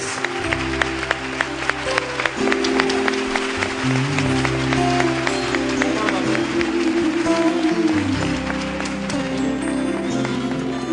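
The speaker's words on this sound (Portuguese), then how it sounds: "Aplaudamos a palavra de Deus." A church congregation applauds after the Gospel reading, a dense, continuous patter of many hands clapping that lasts throughout with sustained music tones beneath it.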